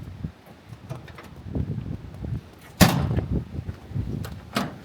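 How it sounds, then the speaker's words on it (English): Drop-down storage compartment door with stainless steel hardware on a 2019 Ford F-550 bucket truck, heard as a single sharp clank followed by rattling, against quiet outdoor background and handling noises. "Drop down door."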